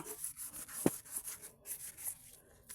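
Rhythmic rough scrubbing strokes of a coarse lihaliha leaf removing soot from a pot, close and fairly quiet, repeating steadily with gritty scraping texture and one sharp knock.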